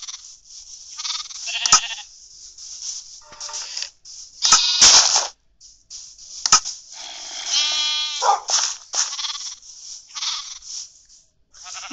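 Minecraft sheep bleat repeatedly in close, loud wavering cries, overlapping with other animal calls and bursts of game noise, with no talking.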